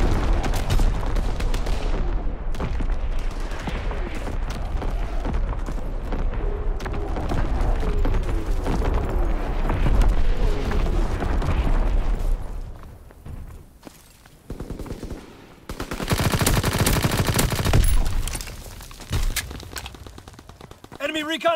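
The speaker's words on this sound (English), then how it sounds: "Firing for full effect. Target zone locked." Artillery barrage and gunfire in Call of Duty: WWII on the Gibraltar map, with sustained rattling shots and booming impacts in a dense, loud stream, a brief lull, then another heavy burst of fire.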